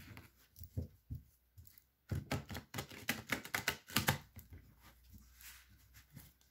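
Tarot cards being shuffled by hand make a close, dry flurry of papery clicks and slaps, with scattered handling sounds first and a dense burst of rapid card snaps in the middle.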